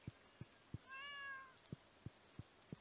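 A cat meows once in a video game, a single drawn-out mew rising over a steady series of soft, evenly spaced thumps, probably footsteps, with no talking.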